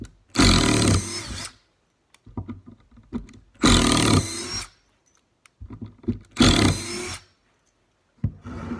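A cordless brushless drill drives screws into wood in three separate bursts, each a loud whirring run of about a second, separated by quieter handling clicks and shuffling, close up with no talk.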